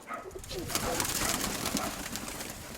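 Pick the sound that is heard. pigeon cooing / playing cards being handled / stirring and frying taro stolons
pigeon cooing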